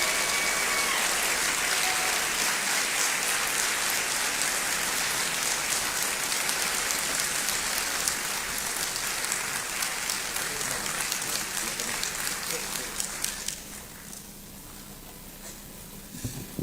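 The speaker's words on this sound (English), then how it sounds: "please help me with another warm applause to welcome our Minister of the Interior, the Honorable Mubarak Muntaka." A large audience at a Ghana citizenship ceremony applauds in a long, steady wash of clapping that holds for most of the stretch, then thins and fades toward the end.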